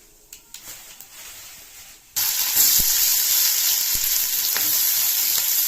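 Cumin seeds and curry leaves dropped into hot oil burst into a loud, bright sizzle after a couple of seconds of quiet clinks, then hiss steadily up close with occasional pops, no voices.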